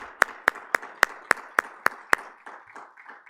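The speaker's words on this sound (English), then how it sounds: "I would like all of us to give them a round of applause" Eight sharp, evenly spaced claps ring out close and clear at a law symposium, then fade into softer scattered clapping as the applause trails off.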